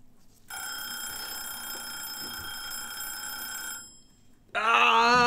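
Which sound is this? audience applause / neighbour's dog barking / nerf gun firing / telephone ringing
telephone ringing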